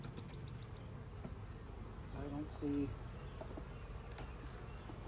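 A steady low hum of honey bees fills a hive inspection, with individual insects buzzing close by while someone speaks briefly in the middle.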